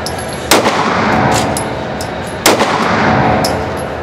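A Kahr PM9 9mm pistol fires 115 grain hollow point rounds, two sharp, loud shots about two seconds apart, each followed by a brief echoing tail.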